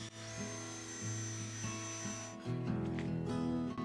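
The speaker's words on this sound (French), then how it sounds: "j'ajoute des blocs de bois dessus et les façonne avec la ponceuse à bande" A steady whirring machine hum with a rough abrasive rasp as wood is pressed against a running belt sander, growing louder midway.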